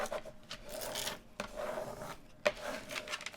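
A scraper tool burnishes craft vinyl, making soft repeated rubbing strokes with brief pauses and one sharp tap, close and fairly quiet with no talking.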